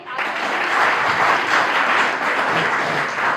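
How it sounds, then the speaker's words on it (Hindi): At a teacher's training college welcome ceremony, an audience breaks into close, loud applause, many hands clapping steadily and evenly for a few seconds without a break. "इस बात पे ताली तो हो जाइए।"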